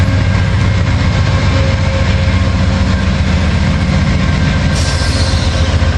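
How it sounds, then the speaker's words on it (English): An Amtrak P42DC locomotive hauling Amfleet I passenger cars rolls past close by, a loud continuous rumble of wheels and rail noise with a faint high squeal near the end, with no talk. "an Amtrak P42 DC 45"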